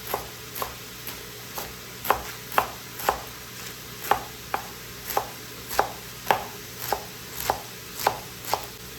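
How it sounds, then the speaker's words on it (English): A knife chops kale into thin strips on a cutting board: about seventeen crisp, evenly spaced strokes in a steady rhythm, close and clear, with no talking. "I'm gonna make some nice little stripes."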